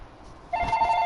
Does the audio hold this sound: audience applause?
no